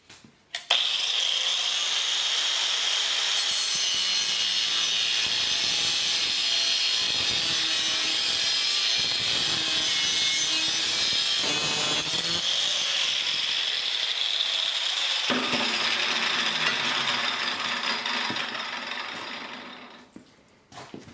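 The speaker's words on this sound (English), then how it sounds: "we're just going to take a 4-inch grinder and whack that off" A 4-inch angle grinder cuts sheet metal for a chimney cap, a loud, steady high-pitched whine with a harsh rasp that holds for most of the stretch, then tapers off near the end.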